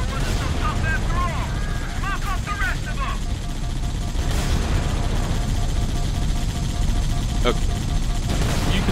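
Chaotic Halo combat gunfire, a dense mix of rapid weapon fire, energy-shot chirps and explosive bursts over a constant roaring din, with a voice talking amid the noise.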